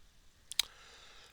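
A few faint, quiet clicks from a computer mouse being worked, with one sharper click standing out amid low background hiss.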